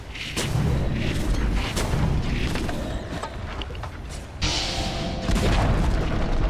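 A middle tower collapsing in the video game Dota 2: heavy booming crashes and rumbling impacts layered over continuous loud game effects, with sharp bursts repeating across the whole stretch.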